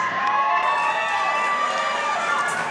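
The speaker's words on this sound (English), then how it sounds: "Good pump from the crowd for Cheyenne" A large crowd roars and cheers steadily at a Colorado Combat Club cage fight as a fighter enters the cage, with a dense, continuous wash of voices heard at a distance.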